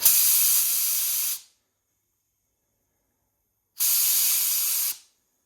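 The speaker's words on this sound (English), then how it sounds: "Next step in the process is to burp the keg so you've got only CO2 left." CO2 hissing into a corny keg during burping, two sharp, loud bursts of steady gas hiss about a second long each, separated by a few seconds of silence.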